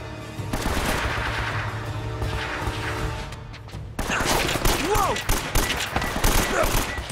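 Gunfire in the video game Uncharted: Drake's Fortune, a dense, continuous stretch of loud shooting and impacts over a steady game soundscape, growing busier and harsher in the second half with whooshing effects.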